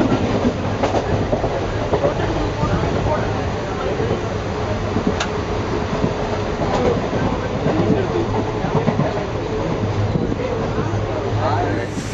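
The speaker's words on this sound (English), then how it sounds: "My very first Indian train ride." Steady rumbling clatter of a moving Indian train, continuous and loud, with faint clicks and rattles throughout.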